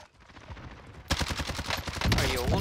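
Rapid gunfire from the Warzone battle royale game, Season 5, with loud overlapping bursts that grow denser and heavier in the second half, with no talk.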